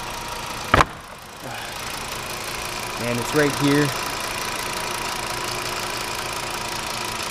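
A 2008 Volkswagen Jetta with a 2.5L engine idles steadily up close under an open hood, a constant low rumble with a sharp clunk near the start and someone briefly speaking over it.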